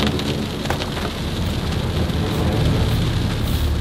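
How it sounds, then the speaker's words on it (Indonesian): Heavy rain driven by strong wind pours steadily on the way to a Mount Kawi base camp in Indonesia, a dense, loud, continuous hiss with no voices. "kami ditemani hujan angin yang sangat dahsyat, membuat nuansanya sangat mencekam"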